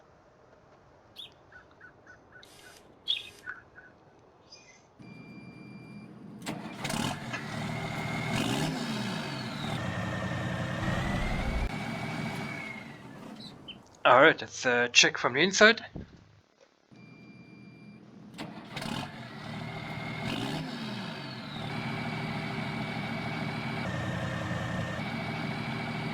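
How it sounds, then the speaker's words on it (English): A heavy Fendt Trisix tractor engine in Farming Simulator 19 revs up and idles with a whistling turbo spool and a brief hissing burst in the middle, with a short spoken line near the start. "Check out the turbo sound on this tractor."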